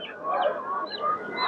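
Geese at a busy poultry market give a series of nasal honks, several overlapping calls close by, rising and falling over a continuous crowd murmur.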